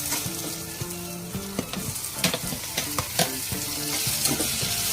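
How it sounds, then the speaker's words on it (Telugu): Tomatoes going into a simmering drumstick curry made with milk sizzle steadily in the pan, with repeated stirring and clinks of a utensil against the pan throughout. "ఇప్పుడు మనం టమాటాలు యాడ్ చేసుకుంటాం"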